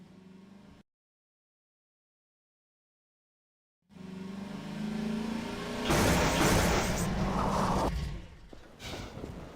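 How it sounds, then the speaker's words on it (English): Buggy in the Half-Life 2 video game driving at high speed, with a loud, steady engine roar that builds and swells after a brief silence, then tapers off slightly near the end. "The audio for the buggy was challenging because we wanted it to feel like a really powerful vehicle that's driving along at super high speed"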